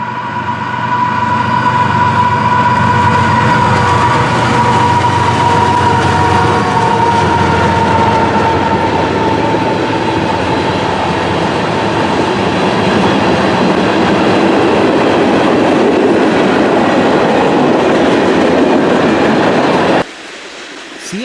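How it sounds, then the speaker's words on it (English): A northbound CSX freight train led by GE locomotives, an ES44AC-H built in 2008 and an AC44CW, rolls past close by with a loud, sustained engine drone and rumbling wheels that continue for about twenty seconds before dropping off abruptly. "a northbound CSX freight train then came on by on CSX's northern sub"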